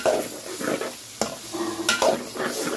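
Fish curry with sarpunti fish, potato and cauliflower sizzling in a pan as a little water goes in, with loud close stirring scrapes and a couple of sharp clanks from the spoon.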